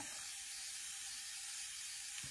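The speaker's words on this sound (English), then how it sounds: "You can hear the fizzing that's making too." Mixed colored liquids fizz with a steady, soft, continuous hiss and no pauses, heard up close and alone.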